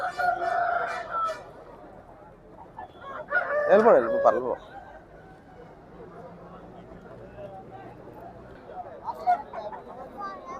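A rooster crows at a busy Saturday village poultry market in G. Mamidada. The loud crow rises mid-clip over steady crowd chatter and nearby voices.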